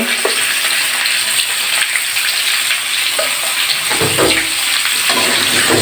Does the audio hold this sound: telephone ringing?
no